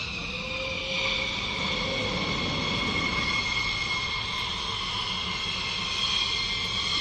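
USAF Thunderbirds F-16 jets perform at the Hill AFB air show, making a continuous distant roar that holds steady throughout.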